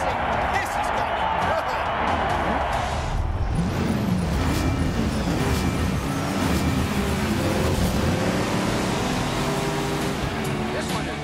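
Race car engines roar continuously through a battle race in the Cars 3: Driven to Win video game, a loud, steady revving blend with shifting pitch and scattered effects, a commentator's voice running under the engine noise.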